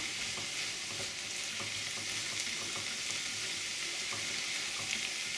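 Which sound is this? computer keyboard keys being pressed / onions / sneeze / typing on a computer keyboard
onions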